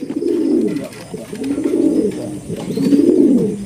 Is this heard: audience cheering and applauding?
no